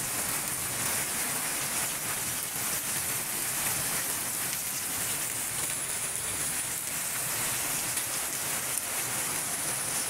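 Steady midday rain falls in Pabna, Bangladesh, under mild wind, a dense, even hiss of drops on surfaces that holds at a constant level throughout with no voices.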